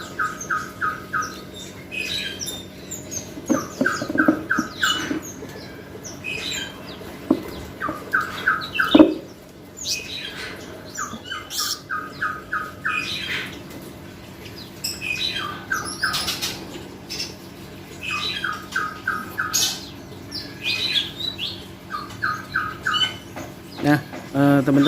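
A pet bird with a fungal infection on its beak squawks and chirps repeatedly while being caught, sharp close calls coming in bursts over rustling handling noise, with a voice talking at times.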